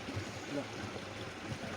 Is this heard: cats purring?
no